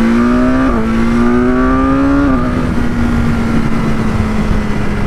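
A 2021 BMW S1000R motorcycle accelerates hard and loud up close, its engine note climbing in rising revs, with a quick short-shifted gear change dropping the pitch before the engine settles into a steady drone.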